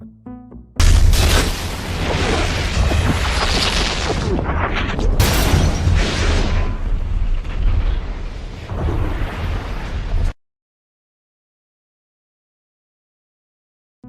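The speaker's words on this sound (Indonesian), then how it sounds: "seorang wanita yang hendak melakukan bom bunuh diri untuk menghalangi mereka" A suicide bomb blast in a war film, a loud booming roar that rumbles and crackles for about ten seconds with a second surge midway, then cuts to silence.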